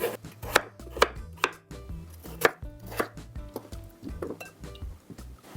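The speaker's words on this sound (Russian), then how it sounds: "мне понадобится картофель разрезаю на средние кусочки" Knife chopping potatoes into medium pieces on a cutting board, a series of sharp, close thunks at an uneven steady pace.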